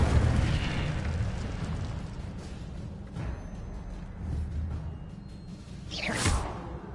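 An Incendio fire spell cast in a Harry Potter game erupts with a loud whooshing burst and rumbling blasts, ending in a sharp swish near the close.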